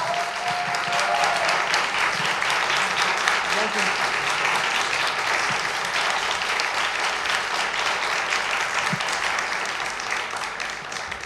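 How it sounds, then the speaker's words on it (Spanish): Sustained audience applause at a Chilean cultural venue welcoming an actress to a café-style talk event, dense, steady clapping filling the room for the full duration without letup. "quiero que le demos un fuerte aplauso a Catalina Saavedra"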